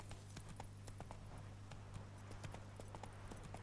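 The horse Roach runs in The Witcher 3, its hooves making a quick, even clip-clop rhythm that carries on through the whole stretch, quiet and steady over a low hum.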